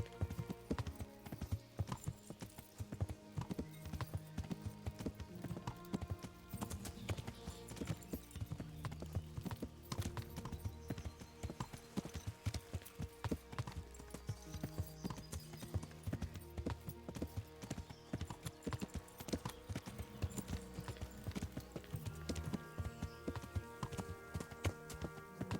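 Hooves clip-clop steadily as a horse is ridden in the medieval video game Kingdom Come: Deliverance, a dense rhythmic trot running continuously over game music and ambience.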